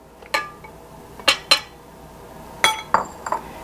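A utensil stirring cake batter of buttermilk and flour in a bowl, producing sparse, sharp clinks against the bowl in irregular pairs, close and fairly quiet with no talking.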